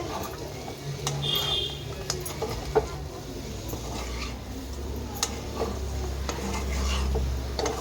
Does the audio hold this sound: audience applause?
no